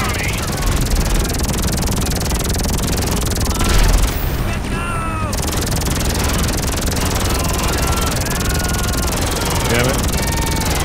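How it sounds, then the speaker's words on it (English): Helicopter in the video game GTA Online, a steady loud rotor drone throughout, with game sounds layered over it and no speech. "There's a damn helicopter."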